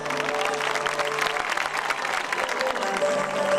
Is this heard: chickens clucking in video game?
no